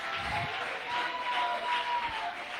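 Fairly faint applause from a church congregation during a sermon, a short burst of clapping that swells and ebbs.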